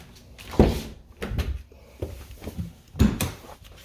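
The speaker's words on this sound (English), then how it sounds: "Let me just open the hood and I will show you guys." A Dodge Challenger Scat Pack widebody has its hood popped and lifted, giving a few dull thunks and latch clunks at close range, with a louder knock near the start and another near the end, separated by quieter handling noises.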